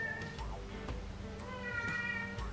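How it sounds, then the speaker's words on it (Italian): A hungry kitten meows in several short, thin cries, close and fairly faint over a low rumbling background, with a little speech nearby. "andiamo a dare da mangiare a questo gattino che sta morendo di fame"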